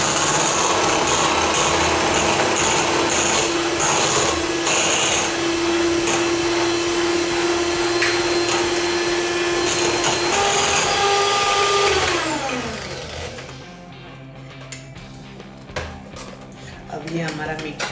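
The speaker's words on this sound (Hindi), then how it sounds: "ये हमारा मिक्सर अच्छे से मिक्स हो गया है।" An electric hand mixer whirs steadily and loudly, beating eggs with sugar for a vanilla sponge cake batter, its pitch dropping as it slows and switches off near the end, leaving quieter kitchen clatter.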